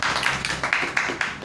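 Students applaud together in a classroom, a steady wash of clapping with a few louder bursts over a low background hum.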